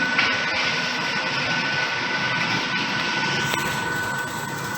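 A cold press oil extraction machine with a wooden churner, steel cap and drum runs steadily at close range, its broadband mechanical drone holding loud and even throughout as the speed rises.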